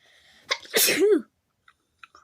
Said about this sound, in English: You made me sneeze.